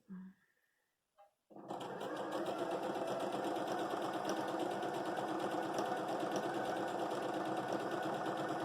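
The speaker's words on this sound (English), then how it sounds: "put them together and sew at 1/4 of an inch like you normally would" A sewing machine stitches flying geese fabric pieces at a quarter-inch seam, starting after a short pause and running as a fast, steady, close mechanical whir and needle patter at an even rhythm.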